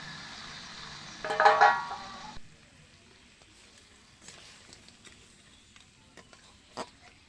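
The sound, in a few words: marinated crabs added to a hot wok, sizzling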